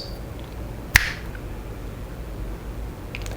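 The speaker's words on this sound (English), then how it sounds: "while I snap my fingers" A single sharp finger snap, close and crisp, against a quiet room background.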